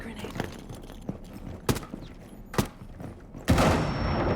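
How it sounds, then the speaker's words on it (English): In a video game, a grenade bursts open a hatch with a loud blast, after several sharp thuds and shots; a roaring noise wash follows and fills the rest of the clip. "Grenade goes out to open up the hatch."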